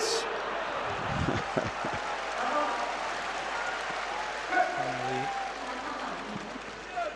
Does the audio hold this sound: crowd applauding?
yes